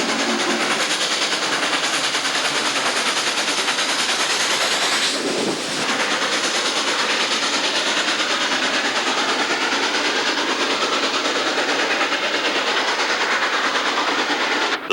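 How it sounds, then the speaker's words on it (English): Steam locomotive hauling a full train up the Blue Ridge grade in Virginia, a steady loud rumble and rolling rail noise continuing unbroken throughout, with a brief shift partway through. "Assaulting Blue Ridge grade with a full train."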